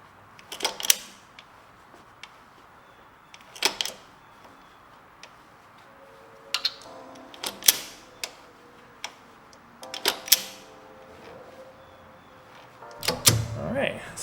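A pit bike engine's output shaft is turned slowly by hand, giving sparse, close mechanical ticks and soft thunks every few seconds over a faint background hum.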